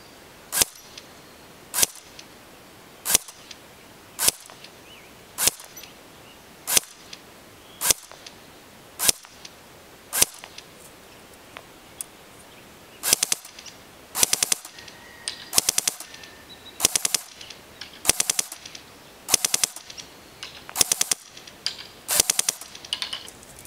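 A Cybergun M14 Socom airsoft electric rifle fires at a target 150 feet away, with sharp, evenly spaced single cracks about a second apart, then quicker clustered pairs and short bursts, loud and close with no talking.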